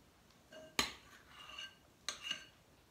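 A spoon clinks against a dish while scooping blueberry batter into muffin cups, giving two sharp, close taps about a second apart, each trailed by faint scraping.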